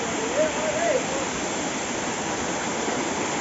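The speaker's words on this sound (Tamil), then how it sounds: "அதே இடத்துல இருக்க இன்னொரு ஃபால்ஸுங்க." A waterfall at Tiruvannamalai roars with a steady, even rush of flowing water, dense and unbroken throughout.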